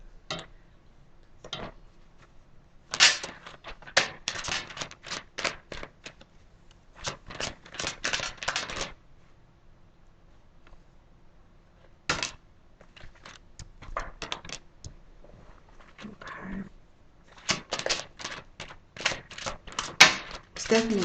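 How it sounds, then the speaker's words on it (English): Tarot cards riffle and snap in quick bursts of close, crisp shuffling, broken by pauses and single card flicks as cards are drawn, with a voice talking softly in between. "I'm going to draw five more cards for you guys."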